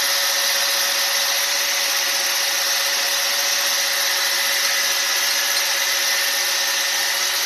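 A new grinder files the ring gap of a 5.3 LS piston ring, giving a steady, close high-pitched whine with a constant grinding hiss that runs unbroken throughout.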